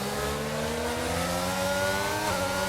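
McLaren and Alpine cars race wheel to wheel in a sim racing game, their engines revving hard and climbing in pitch together, then briefly dropping with a gear change near the end; loud and continuous.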